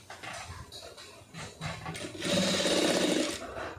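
A sewing machine stitches a neck design on fabric, light handling and clicks at first, then a steady, loud run of rapid stitching over the last second and a half.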